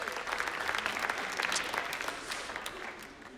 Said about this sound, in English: Clap if you're dating.